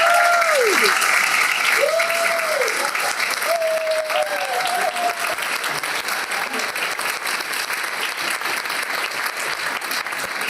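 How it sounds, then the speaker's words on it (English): A crowd applauds steadily for about ten seconds, dense continuous clapping with a few faint whoops early on. "Let's give them a hand clap"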